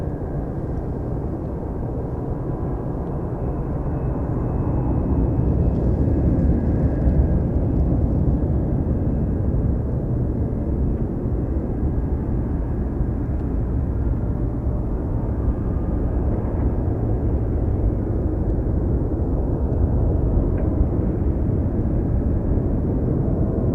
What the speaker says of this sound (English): let's go for the Skyly 747. Lining up. I'm hearing it power up.